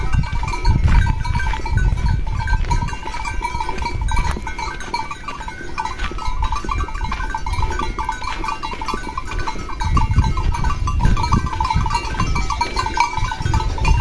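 Goats bleat repeatedly out in open scrubland, several animals calling close by in loud overlapping bursts with brief pauses between them.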